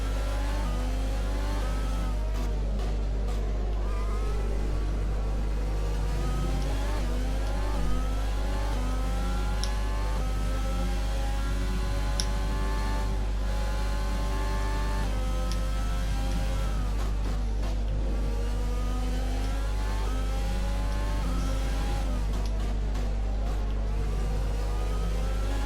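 An F1 car engine in F1 2020 at Austin, running with high engine wear and a turbocharger losing power, drones continuously, its layered pitch sweeping up and down as revs rise and fall over a low steady rumble.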